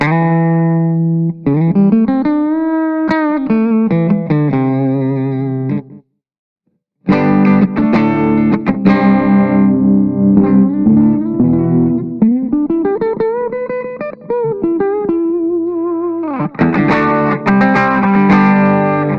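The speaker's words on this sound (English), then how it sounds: "Now I can roll off the tone, which kind of starts to give you a slightly thicker sound" A Harley Benton DC Junior electric guitar with the tone control rolled off gives a warm, muffled, thicker tone, sliding bends and sustained chords, loud and close, with a brief gap of silence partway through.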